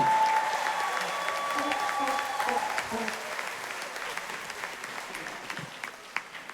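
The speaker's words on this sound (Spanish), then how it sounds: "Aplauso fuerte para Tony." Loud audience applause at a tribute concert, a dense wash of clapping that starts strong and gradually thins and fades over several seconds, with a voice heard early on.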